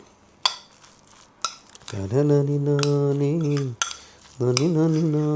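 A spoon scrapes and clinks against a pan while roadside masala is stirred with spice powder, with sharp metallic taps and longer ringing scrapes in bursts, up close and loud.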